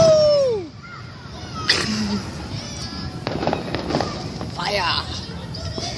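July 4th fireworks go off: a whistling launch fades into a sharp bang, followed by scattered crackling bursts and pops at mid distance, with people talking and calling out nearby.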